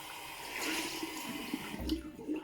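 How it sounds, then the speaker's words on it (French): A small silicone cleansing pad being rinsed under running water at a bathroom sink, a close, steady wash of water with soft splashy bursts. "je rince mon petit pad en silicone"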